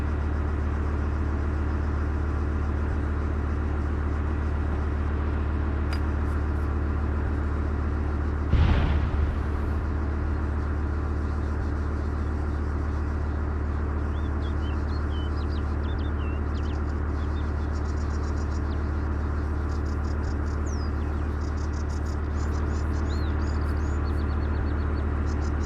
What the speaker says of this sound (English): They are now firing mortars at us.